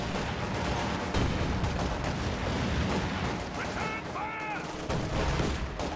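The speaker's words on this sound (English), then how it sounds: "ML20 firing." ML-20 howitzer fire in a real-time strategy game, a dense stream of booming shots and crackling small-arms bursts layered under battle noise, with brief chirping tones partway through.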